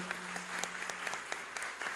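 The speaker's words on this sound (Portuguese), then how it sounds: "Você pode aplaudir a Jesus por essa palavra?" A church conference crowd claps steadily and enthusiastically, a dense patter of many hands heard at moderate distance, with no voices standing out.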